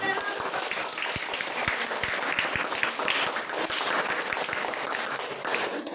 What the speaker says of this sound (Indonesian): Kita berikan aplaus dulu buat